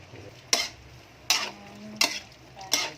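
Pancit guisado stirred to dissolve rock salt, with four sharp utensil scrapes against the pan at a slow, even pace over a faint sizzle.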